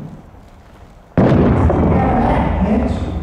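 Grenade explosion in Six Days in Fallujah, a single sudden, loud blast that breaks a quiet background and rolls off into a long, rumbling tail.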